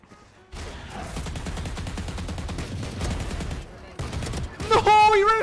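Rapid gunfire from the Valorant video game, with Vandal rifles and Sheriff pistols trading shots in dense, continuous bursts for several seconds, loud and close, briefly pausing before resuming, with excited voices and game sounds over the end.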